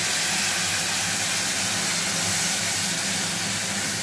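A paste of ginger, green chili and tomato frying in a hot pan, giving a continuous loud, close sizzling hiss that holds steady from start to finish.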